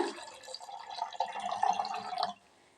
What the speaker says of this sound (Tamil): ரெண்டு கப்பு தண்ணி ஊற்றிக்கலாங்க